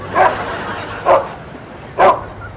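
A dog barks three times, spaced about a second apart, fairly close and clear over a low steady hum.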